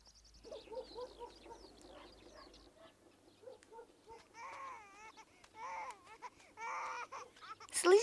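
A small baby cries in a series of thin, wavering wails and whimpers, fairly faint and close, with short gaps between bursts and rising to a louder cry at the end.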